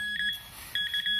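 A pin pointer metal detector held near buried metal gives a close, high electronic beeping in two short bursts separated by a brief gap.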